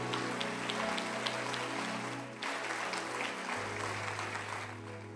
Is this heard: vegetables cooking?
no